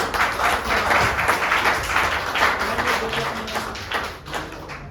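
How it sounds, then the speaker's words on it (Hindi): Dense crowd clapping, steady and loud throughout the clip with rapid overlapping hand claps, tapering slightly near the end. "तालियां"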